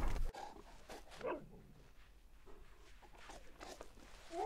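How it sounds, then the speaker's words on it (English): A dog in the Horse Simulator video game barks and whimpers in short bursts over soft footsteps, fairly close but quiet, with brief clatter at the start. "This dog is a certified good boy."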